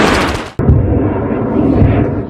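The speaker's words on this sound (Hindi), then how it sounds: "इजराइल के आसमान में भीषण धमाके देखे गए।" Rocket explosions and Iron Dome interceptions over Israel: a sharp single blast cuts in abruptly, followed by a loud rumbling roar that lingers and echoes, with no talking.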